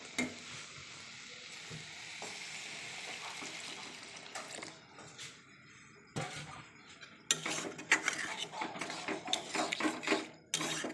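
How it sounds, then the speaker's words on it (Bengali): Water is poured into a potato and eggplant curry frying in a pan, with steady close sizzling and stirring that erupts into louder, bubbling bursts in the second half. "দেখো তরকারিতে এখন একটু জল দিয়ে দেবো।"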